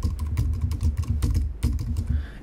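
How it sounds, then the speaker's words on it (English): A computer keyboard being typed on, with a quick, steady run of close, crisp key taps and a brief pause near the end. "you can just type it in."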